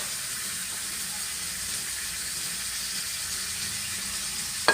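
Pork belly and bell peppers, seasoned with sauces, oyster sauce, dark soy and fish sauce, stir-frying in a wok give off a steady, even sizzle throughout, with a short sharp click right at the end.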